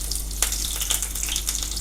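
Cumin seeds and green chilies hit hot oil in a small tempering pan, giving a brief bright sizzle with scattered crackling pops close to the microphone.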